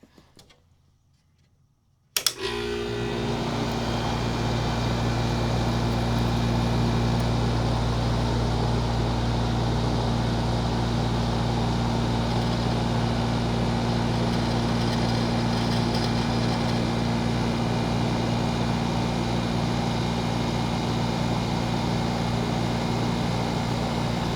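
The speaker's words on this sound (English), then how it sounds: "I'm going to start up this awesome sounding compressor" A 1970s Westinghouse 6000 BTU air conditioner starts from near silence with a sudden clunk, then its compressor and condenser fan settle into a steady, loud low hum with a droning mechanical rattle that runs continuously.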